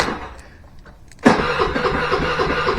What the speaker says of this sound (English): it's gonna have a little bit of a time trying to start.